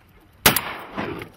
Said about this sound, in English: Good shot, Jamie.